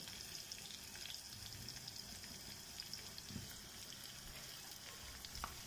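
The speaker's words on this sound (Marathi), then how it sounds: "आपल्या खांडवीवर किंवा सुरळीच्या वडींवरती" Hot tempering with salt and asafoetida poured over khandvi (gram-flour rolls), giving a steady, close sizzle and crackle with faint kitchen clatter.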